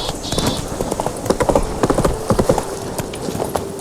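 Roach, the horse in The Witcher 3, trots along with steady, close clip-clopping hooves that keep up a brisk rhythm throughout.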